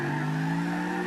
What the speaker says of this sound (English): Handbrake on, revving the engine,